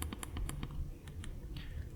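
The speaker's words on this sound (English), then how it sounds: "This is the sound of the joystick button." Quick, crisp plastic clicks from the joystick button of a Manba One v2 game controller repeat in a rapid, slightly uneven series, close up and fairly quiet.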